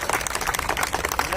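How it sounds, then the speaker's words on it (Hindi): An audience at a political welcome event in Patparganj, East Delhi, claps in a dense, steady patter of applause under a voice speaking. "र्मा जी सबकी तरफ से, पूरे विधानसभा की तरफ से करेंगे जोरदार तालियां बजाकर हार्दिक अभिनंदन और स्वागत।"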